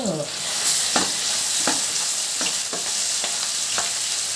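Ginger garlic paste sizzles and crackles steadily in a hot pan, with a few sharp scrapes of a spoon stirring at irregular intervals.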